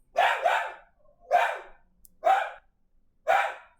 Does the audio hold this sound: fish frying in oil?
no